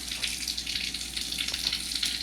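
Hot water runs from a kitchen tap in a steady hiss, splashing continuously at moderate volume for a cup of water measured out for homemade pizza dough.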